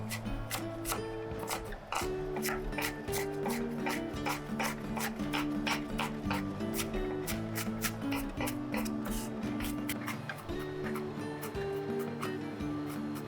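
A knife coarsely chops garlic on a cutting board in a home kitchen, a steady rapid train of crisp taps running continuously over a constant background hum.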